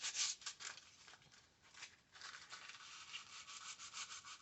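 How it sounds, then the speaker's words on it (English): Rhythmic hand sanding of the headlight trim from a 1973 Jeep Commando, a steady close-up rasping scrape in quick back-and-forth strokes with a brief pause midway. "This stuff sands pretty quick."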